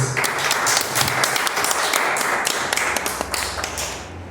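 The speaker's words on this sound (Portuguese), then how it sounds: "vamos dar uma salva de palmas bem forte para Jesus" A church congregation claps during a worship service in praise to Jesus, a loud, uneven burst of many hands with sharp individual claps standing out. It holds steady, then thins slightly near the end.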